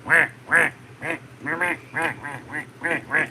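A human voice mimicking a duck, giving about ten loud, nasal quacks in a quick, fairly even rhythm, close and clear.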